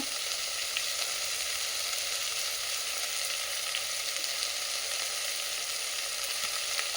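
Curry sizzling steadily in a pan as it cooks, a constant close crackling fry that holds even and unbroken throughout with no voices.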